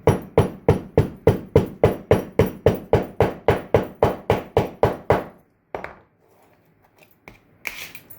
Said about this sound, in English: let's compact it with a hammer